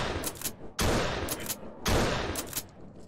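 Enemy gunfire in the Doom-engine horror game Dismantled: loud bursts of rapid shots in two heavy volleys, with short gaps and scattered single cracks between them.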